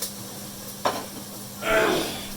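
A steak drops into a hot cast iron pan with a brief clatter, followed by a loud, steady sizzle of frying meat that swells and carries on close by, with no talk.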